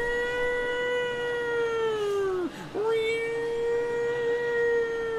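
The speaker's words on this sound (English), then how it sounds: "The air raid sirens," A loud, sustained air raid siren wail holding a steady pitch, dipping sharply once before rising back and continuing, rich with harmonics and heard up close.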